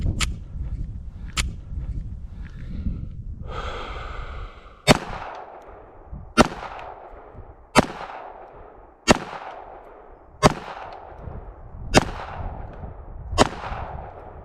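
Smith & Wesson M&P Shield EZ .380 pistol fired at a range, about nine sharp loud shots, two close together and then a steady series roughly a second and a half apart, each with a ringing decay.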